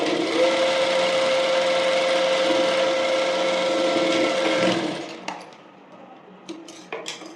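Sewing machine stitching a couple of side stitches on an umbrella frock, a steady dense whir running continuously for about five seconds and then stopping, followed by faint handling clicks and rustles.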